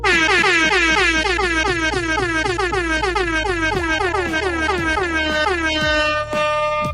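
A loud air horn blasts the fast, repeated melodic riff of a song in short pitched honks, then holds a few longer notes at the end.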